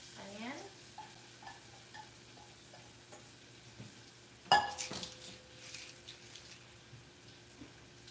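Onion fries and sizzles in a pan while being stirred, with scraping and clinking of a utensil against the pan and one sharp metallic clank midway. No one speaks.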